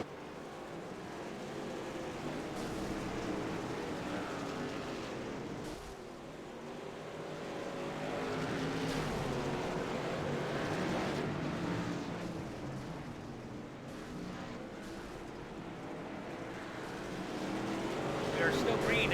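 Dirt-track race cars at Eldora run in lap traffic, a continuous loud roar of engines that swells and fades as packs pass, under a race announcer's commentary.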